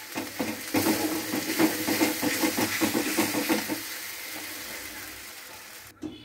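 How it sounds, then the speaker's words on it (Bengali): Ginger and garlic frying in oil, with a soft sizzle under rapid, rhythmic stirring strokes that stop partway, leaving a quieter hiss before a brief knock at the end. "দেখুন বন্ধুরা আমার কি সুন্দর ভাজাটা হচ্ছে।"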